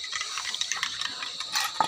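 Cold water is poured into a mixture being prepared in a kitchen, a short, faint, close splashing trickle with small liquid bursts near the end.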